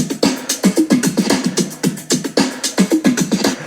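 Layered drum loops with a kick, built in FL Studio, thump and snap in a steady driving rhythm, dense and punchy, with bright hits stacked over low kicks and no voice over them.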